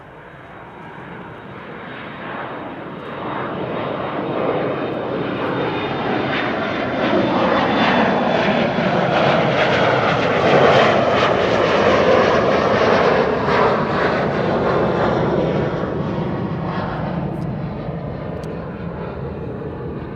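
KLM Embraer 175 regional jet departing Amsterdam Schiphol on the Kaagbaan runway, a loud sustained engine roar that swells to a peak mid-way and then slowly recedes, heard alone without talk.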